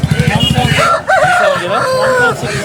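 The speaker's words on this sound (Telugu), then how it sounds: "మంచి క్వాలిటీ కలిగినటువంటి పెట్టమార్ పుంజు అయితే ఉందండి" A rooster at the Nellore Sunday poultry market crows loudly and up close, one long drawn-out call that follows a few short clucks.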